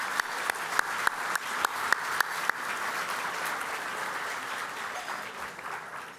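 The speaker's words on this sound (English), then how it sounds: "A round of applause for Stacy and her parents" Audience applause at a leadership dinner, opening with a few sharp, rhythmic claps before swelling into a steady, moderately loud wash of many hands that fades slightly toward the end.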